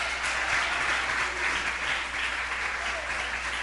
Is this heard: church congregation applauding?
yes